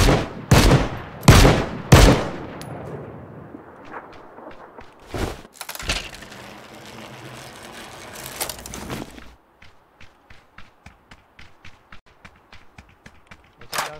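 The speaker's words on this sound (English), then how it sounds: "Was that us firing at him or somebody else?" Loud gunshots ring out in a shooter game, a few heavy close reports and a burst early on, then a sparser stretch of quieter, evenly spaced shots or footsteps toward the end.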